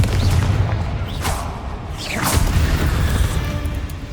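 In the video game Hogwarts Legacy, a Confringo fire spell bursts with a deep boom and a fiery whoosh. Rushing sweeps and crashing debris follow over a loud, rumbling bed of low noise.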